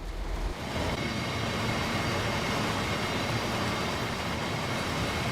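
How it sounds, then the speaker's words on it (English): Train carriages roll along steady and close in a railway simulator game, a continuous low rumble with dense rhythmic clatter that holds constant throughout, with no talking. "these carriages do appear to have a different sound set to the old TEAs"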